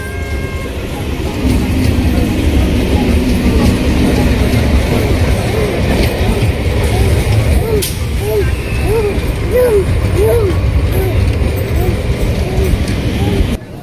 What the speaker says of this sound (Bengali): ট্রেন তুমি জানো ওটা ট্রেন